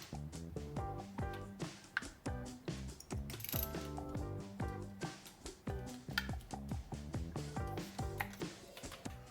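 A hand ratchet clicks rapidly and steadily while spark plugs are threaded into a Subaru WRX engine, close and crisp with short pauses between strokes.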